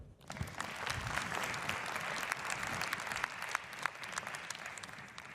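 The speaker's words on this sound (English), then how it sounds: "let's give a round of applause for all the entrepreneurs participating on this panel and throughout the day" Audience applause at a Startup Canada event on Parliament Hill honouring entrepreneurs on a panel, brisk and fairly dense clapping that rises quickly and stays steady throughout.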